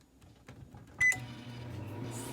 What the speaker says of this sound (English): We're going to put it in the microwave and see what'll happen.